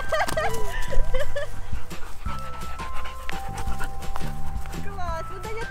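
A large dog pants heavily and quickly while playing fetch in a park, close by, mixed with thudding footsteps and people talking over it.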